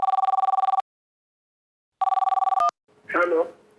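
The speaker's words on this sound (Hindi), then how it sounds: "टेलीफोन भैया जरा बात कराइए" A telephone ringing in two bursts of rapid electronic trilling separated by a silent pause, ending abruptly as it is picked up, followed by a short spoken greeting.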